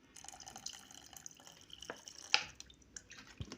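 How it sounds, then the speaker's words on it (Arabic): Vinegar trickles and drips into a pot of koshari tomato sauce in faint, uneven splashes, close and quiet, with a sharper spatter near the middle. "هبدا احط لها شويه خل"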